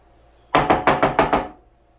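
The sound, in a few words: lid put onto a jar of garlic scape pesto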